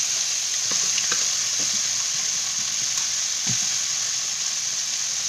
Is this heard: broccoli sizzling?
yes